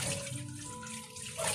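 Water streams steadily from a tap into a slow-draining, clogged sink during plate washing, a continuous close hiss and splash with no talking.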